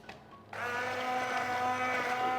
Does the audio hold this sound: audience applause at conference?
no